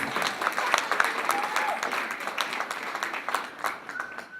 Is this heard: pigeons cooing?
no